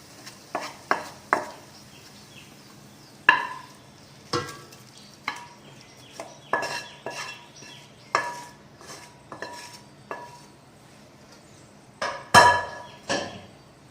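Sautéed shredded cabbage is tipped into a pressure cooker and stirred with a metal spoon: a sequence of sharp, close clanks and scrapes at an irregular pace over a soft background hiss, with no speech.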